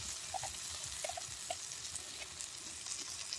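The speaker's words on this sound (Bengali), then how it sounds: "আদাটা দিয়ে কিন্তু বন্ধুরা বেশিক্ষণ ভাজবেন না, কারণ আদা বেশি ভাজলে তেতো হয়ে যাবে।" Ginger paste fries in oil for a vegetable dal, a quiet steady sizzle with small scattered pops and light stirring scrapes, close up and without speech.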